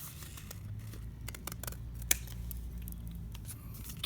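Scissors snip a teardrop shape out of folded paper for a rose window craft, giving sparse, crisp cuts with one sharper snap over a low steady room hum.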